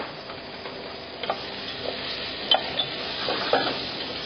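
Arborio rice and red onions sizzle steadily in olive oil for risotto, with occasional scraping stirs and clicks against the pan, close and continuous.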